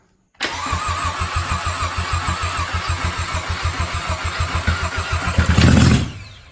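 A repaired Volkswagen Jetta engine with its exhaust manifold unhooked cranks in a steady, close rhythm, then catches and surges into a loud, rough roar before cutting out.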